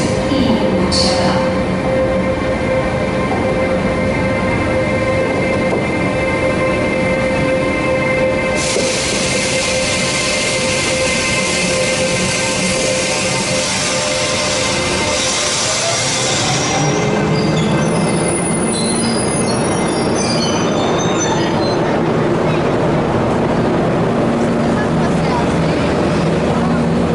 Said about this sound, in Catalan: Talgo, procedente de Barcelona, estación de Francia. Destino Puigcerdà.